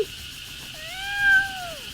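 A kitten gives a single drawn-out meow with a rising-then-falling pitch, moderately close and clear over a quiet background.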